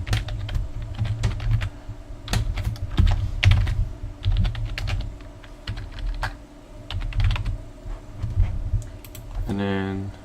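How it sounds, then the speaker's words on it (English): Fingers type an email address on a computer keyboard, a close run of quick irregular key clicks over a low background hum, with a brief rattling sound at the end. "You're gonna type in their email."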